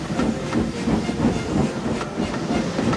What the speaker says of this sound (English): And the coaches glided after him out of the station.